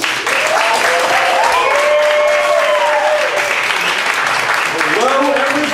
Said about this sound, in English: A big round of applause for Matt Dietz.